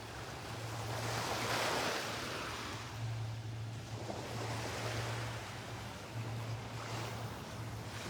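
Ocean surf rolls onto the beach at Delnor-Wiggins in recurring broad washes, with a low motor drone running steadily underneath and wind buffeting the microphone.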